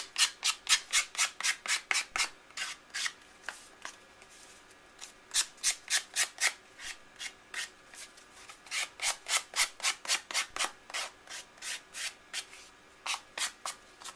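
Paper edges of a handmade mini album being worked with quick, rhythmic rubbing strokes, a rapid scratchy rasp repeating in bursts with brief pauses, close and fairly quiet, with no talking.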